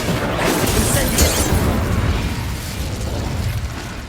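A fiery Incendio spell blast in Hogwarts Legacy combat, a loud sustained whoosh and rumble with crackling bursts that fade slightly toward the end.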